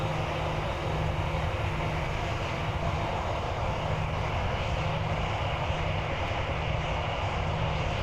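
Airplane engine roars at takeoff in a flight simulator video game, a loud, steady, dense drone with a low throbbing hum, continuous throughout with no voices.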